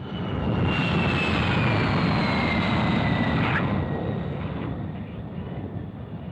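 A de Havilland Vampire jet aircraft flying past, its loud rushing roar with a high whining whistle that sweeps downward as it passes, then fades into a distance rumble.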